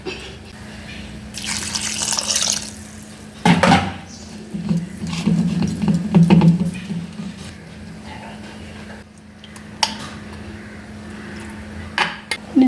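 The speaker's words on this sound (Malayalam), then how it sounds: "ഇനി നമുക്ക് വെള്ളം ഒഴിക്കാം" Water splashes and runs into a metal pan of dried sardines, with clinks of pots and utensils, close by and fairly loud in short bursts.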